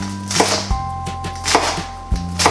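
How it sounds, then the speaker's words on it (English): Lettuce being chopped with a Gladiator Series mini Santoku knife: a close, crisp run of about six firm strikes on a board, each blade hit followed by a short woody knock, with no talking. "It is a perfect knife for cutting the lettuce."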